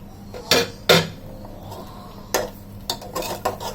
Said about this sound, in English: I am adding the chicken pieces.